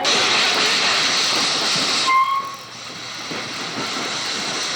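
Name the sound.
steam locomotive train running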